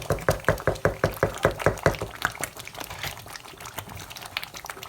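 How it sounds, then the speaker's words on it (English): Thick peanut butter sauce with tomato boils in a pot over a fire, popping in a quick, regular series of loud plops, then settling into softer, irregular bubbling. "Peanut butter sauce has been boiling for 7 minutes now, and it's all done."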